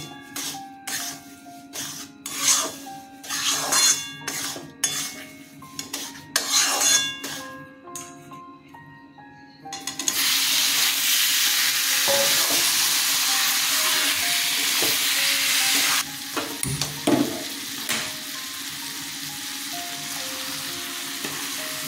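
Spices stirred in hot oil in a pan for a sweet raw mango mustard pickle, with turmeric and chilli powder: scraping stir strokes at first, then a loud, continuous close sizzle with occasional utensil clinks.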